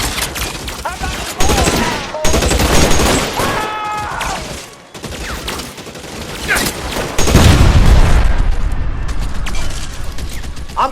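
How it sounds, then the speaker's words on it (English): Covering gunfire in LA Noire erupts in dense, loud fusillades with mechanical clatter, broken by brief lulls, while shouted voices break through the shooting. "Lay down some covering fire!"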